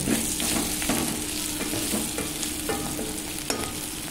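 A spoon scrapes and stirs coriander and chili powder in a hot pan of frying bitter gourd, with a constant sizzle underneath, scraping strokes coming at irregular intervals.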